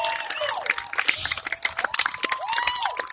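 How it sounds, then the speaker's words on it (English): A crowd at a BMX show held at an air show cheers, whistles and claps for the riders, lively and continuous, with excited shouts, including children's voices. "Give them a big round of applause for all three riders."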